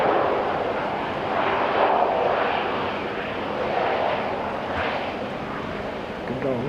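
An old Air New Zealand airliner at Auckland International Airport gives a steady, loud engine roar that swells and eases, with a person talking over it.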